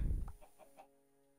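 A Minecraft chicken clucks in a short burst of three or four quick clucks after a low thump, close and fairly quiet, with no talking.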